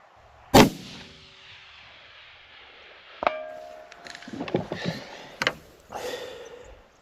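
Rifle shots fired at a steel plate target 700 yards away, one sharp loud report at the start and another crack a few seconds later, each ringing out, followed by faint rustling and movement nearby.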